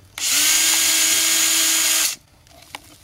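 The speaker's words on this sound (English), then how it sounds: "Okay, so first we'll drill a couple of holes." A power drill whirs loudly for about two seconds while boring a hole into a wooden nest box, a steady high whine up close that stops abruptly, followed by faint handling noise.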